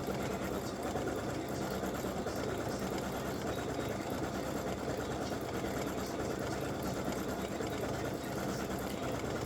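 An embroidery machine stitches a Santa legs and bow appliqué design with mylar, a dense, steady mechanical whir running continuously and close with no pauses.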